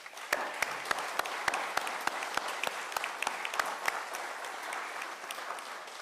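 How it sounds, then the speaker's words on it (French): An audience claps at a screening followed by testimonials, dense, sharp claps layered into a steady ovation that lasts throughout, moderately distant and without any voices over it. "Donc je vous propose de l'applaudir aussi."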